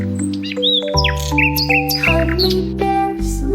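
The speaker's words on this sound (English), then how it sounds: "Little birds tweet and sing." Little birds tweet, chirp and squawk in quick overlapping calls, set against a sustained musical accompaniment that plays throughout, loud and close.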